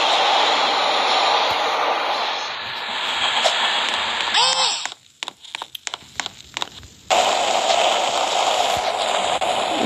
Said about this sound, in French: Allez, on va prendre ce métro de chez Wish.